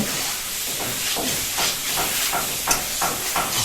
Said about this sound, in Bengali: এখন এটাকে খুব সুন্দর করে আমরা তেল মশলা এবং হলুদ এবং লবণ দিয়ে খুব সুন্দর করে কড়াইতে এটাকে ভেজে নেব